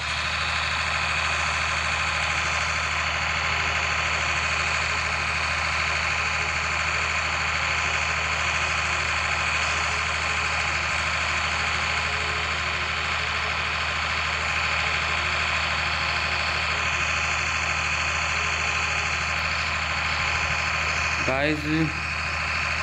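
An Indian tractor engine in Farming Simulator 20 drones steadily as it climbs a hill, a constant mid-pitched hum that runs the whole time while someone talks over it.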